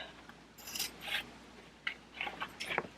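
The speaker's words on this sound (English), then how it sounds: "I am going to take my scissors and I'm going to snip" Scissors snipping through fabric for a bag, several short crisp cuts in quick succession, close and clear with brief pauses between snips.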